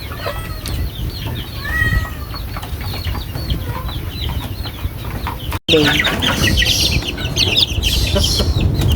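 Chickens and chicks cluck and chatter continuously nearby at feeding time, with occasional sharper calls over a busy farmyard background.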